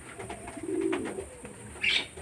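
Old-line Madras pigeons kept at home give a soft low coo near the middle, with a brief higher chirp toward the end, close by and fairly quiet.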